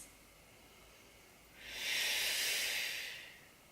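A deep, breathy exhale during a core breathing exercise after a C-section, a soft airy hiss that swells and fades over about a second and a half, close and alone.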